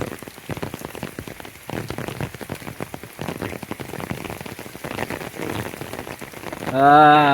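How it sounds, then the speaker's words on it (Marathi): Heavy monsoon rain pours down steadily over rice fields in a Konkan village, big drops drumming loudly on a surface close by, with a brief tonal chime near the end. "हे बघा पावसाचे मोठे मोठे असे थेंब पडतात ना"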